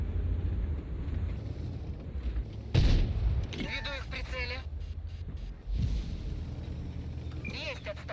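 Artillery fire in the tank battle game World of Tanks: two heavy booming blasts, one near 3 s and a softer one near 6 s, over constant wind-like battle rumble and scattered mechanical clatter.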